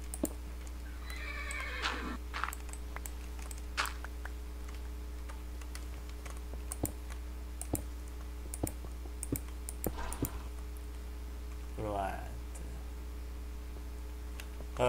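A Minecraft horse lets out two faint whinnies, one early and one near the end, separated by scattered soft clicks and taps over a quiet, humming background.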